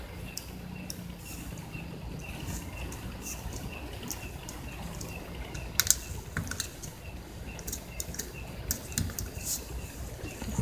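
A plastic key is pressed back onto an Asus X451 laptop keyboard, making scattered small, sharp clicks and taps over a quiet hiss, with one louder snap near the middle and no voices.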